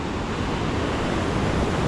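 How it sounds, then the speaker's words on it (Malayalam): Steady, broadband rush of flowing water, loud and continuous with no pauses, like a river running close by. "ഇപ്പോൾ തന്നെ ഈ ഒരു പുഴൻ്റെ തന്നെ സൗണ്ട് കേട്ടോ നിങ്ങൾ"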